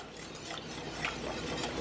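A spoon stirs lemon juice into a cream sauce in a pan, giving a steady, soft scraping and swirling at close range with faint clinks, alone without talk.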